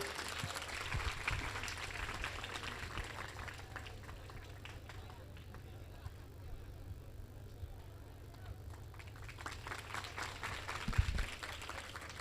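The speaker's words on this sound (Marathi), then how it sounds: "जोरदार टाळ्या होऊ द्या सबनीस मॅडमसाठी." Sustained audience applause at an educational guidance camp, honouring a woman guest, steady and fairly loud throughout with a brief louder burst near the end.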